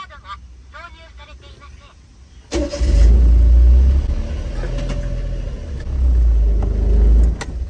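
A Honda Beat's small engine cranks and catches after a tune-up, starting abruptly and settling into a loud, close idle with a couple of revs, following brief talk beforehand.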